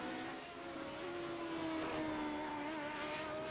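A Radical SR8 race car's engine drones steadily at a distance during a championship round at Belle Isle, a continuous tonal hum that shifts slightly in pitch with no talk over it.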